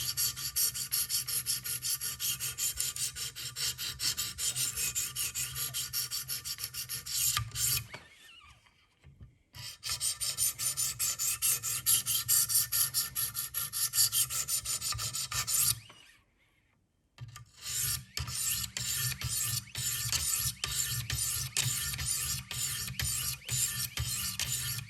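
A Buck 422 Bucklite knife blade is drawn against the stones of a Wicked Edge sharpener in steady, continuous rasping strokes. Two brief pauses break the grinding, and no one speaks.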